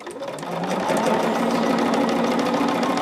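A sewing machine stitches quilt blocks with a steady, close mechanical whir that builds up quickly and then runs on evenly at speed.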